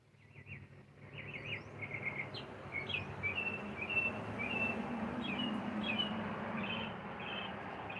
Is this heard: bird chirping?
yes